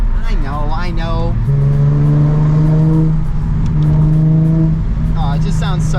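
Nissan 350Z engine revving loudly up close, climbing through two sustained pulls with a dip between them, a voice briefly heard over it at the start and again at the end.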